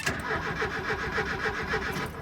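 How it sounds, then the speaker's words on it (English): A long-dormant Porsche engine, sitting unused for about 25 years, cranks over steadily without firing, the starter giving a rapid rhythmic churn that runs close and loud for the whole stretch with no catch or idle. "Let's just crank it just to maybe splash a little oil."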